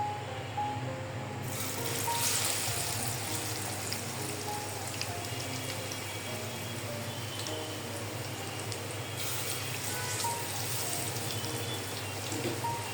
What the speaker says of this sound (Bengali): আমরা একটা একটা করে এই স্যান্ডউইচগুলো সব ভেজে নিব।